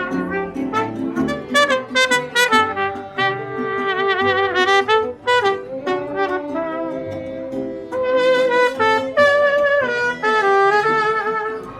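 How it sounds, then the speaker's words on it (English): A mariachi band plays loudly and up close in a venue with a waterfall in Cozumel, Mexico, bright trumpets and strummed strings in lively phrases with brief pauses between them. "There's the mariachi band."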